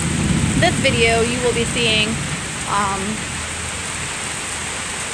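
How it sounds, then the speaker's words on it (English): Heavy rain falls outdoors in a steady, loud broadband patter throughout, while a person speaks over it for the first few seconds. "so all this rain will subside"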